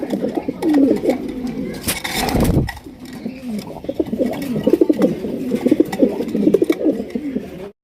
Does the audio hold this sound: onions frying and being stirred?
no